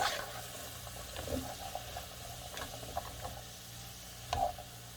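Chopped celery and other vegetables cook together in a soup pot, giving a low, steady sizzle with soft stirring scrapes and a few brief clicks of a utensil, fairly quiet and close.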